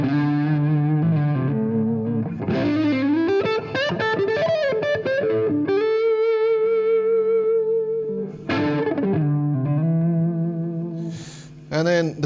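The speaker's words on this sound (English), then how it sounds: "This isn't an EMG pickup, it's the Fernandez Sustainer, but even as a passive pickup, it does sound sort of quite nice." A John McGuire Valley Pro electric guitar played through a Fernandez Sustainer pickup, sounding as sustained, effects-laden notes and chords with distortion and chorus-like shimmer, some long held tones ringing loudly and steadily.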